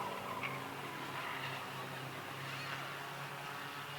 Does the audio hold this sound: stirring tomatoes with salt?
no